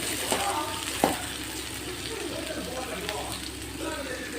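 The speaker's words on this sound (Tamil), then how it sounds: "நல்லா பொன்னிறமாக வதங்குது." Onions sautéing to golden in a pan for banana flower stir-fry, a steady close sizzle with a couple of sharp stirring clicks.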